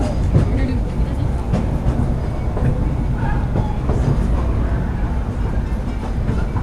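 Disneyland Railroad train rolling along the rails with a steady rumbling clatter and rhythmic wheel clicks up close, and a voice talking faintly underneath.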